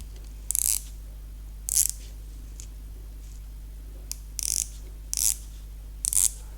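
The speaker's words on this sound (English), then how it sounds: "The bezel action is really nice, and because of those teeth that you can see here on this bezel" The ceramic ratcheting bezel of a Squale 1545 dive watch is turned in five or six short bursts of crisp, close clicking separated by quiet pauses over a low steady hum.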